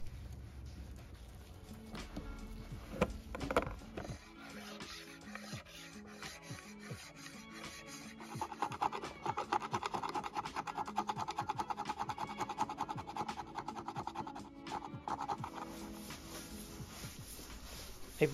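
Hand sanding on a vintage wooden school desk during restoration, a steady rubbing and rasping that grows denser and louder midway, with scattered knocks and no talk.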